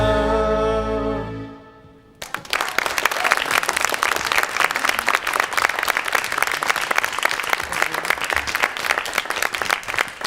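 Jurors break into loud, sustained applause after a song performance, the clapping starting abruptly once the closing music fades and continuing evenly until the end.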